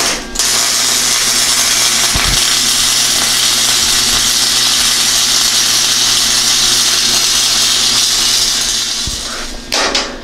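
Welding angle iron onto a skid plate for a Chevy G20 Gambler van produces a continuous loud crackling hiss close up, lasting about nine seconds with a brief interruption near the start.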